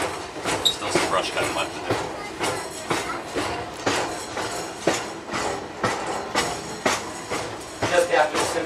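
Locomotive-hauled train riding the Pittsfield & North Adams rail line between Adams and North Adams, heard from on board: rhythmic wheel clatter over rail joints with occasional squeal and a working engine, while someone talks over the noise.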